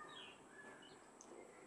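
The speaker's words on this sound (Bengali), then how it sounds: "তো এই পাখিদের কিচিরমিচিরই শুনি এখানটায় বসে বসে" Faint birds chirp outside a window, a few thin, scattered calls over a quiet, hushed background.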